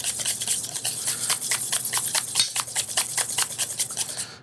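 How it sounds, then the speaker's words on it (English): Fruit jelly whisked in a bowl at a pastry demonstration to thin it, a steady run of quick scratchy strokes close up, with no talking. "The more we whisk it, the softer it gets."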